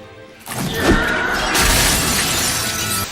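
Glass shattering as a man is thrown through a stained glass window, a loud crash followed by a long spray of breaking and tinkling shards that lasts several seconds.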